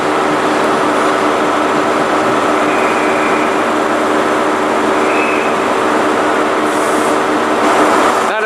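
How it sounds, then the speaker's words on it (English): Class 165 diesel unit 165131 passing Reading station on the Great Western Main Line, bound for London Paddington: a steady, loud, continuous rumble of engine and wheels close by, with faint brief squeals, no talk. "One 65131 with service bound for London Paddington"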